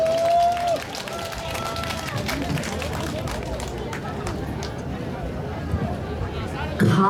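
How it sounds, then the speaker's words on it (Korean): A crowd applauds at a Ganggangsullae folk performance event in traditional hanbok, with steady, dense clapping mixed with crowd hubbub running throughout. "여러분들께 다시 한번 큰 박수 주시기 바랍니다"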